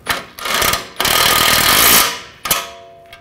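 Power tool snugging down a tie rod nut on a 2006-2010 BMW 550i during front wheel bearing and hub replacement: loud, close rattling bursts, with a long sustained run in the middle and short stutters before and after.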